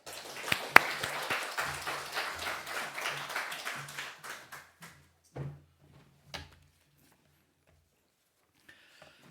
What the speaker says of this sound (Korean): 오늘은 특별히 더 힘차게 목사님 나오실 때 박수로 환영해 주시기 바랍니다.